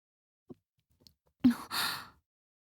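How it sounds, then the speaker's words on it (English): A female character in the Steins;Gate visual novel gives a single sharp breathy gasp that trails into an airy exhale, close and isolated after near silence. "I hear Kurisu gasp."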